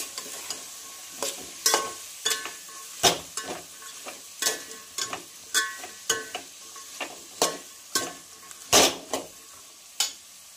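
Vegetables with salt, turmeric, coriander powder and garam masala are stirred and fried for a mixed vegetable pulao, a soft sizzle broken by repeated clacks and scrapes of a spoon against the pan at an uneven, steady pace.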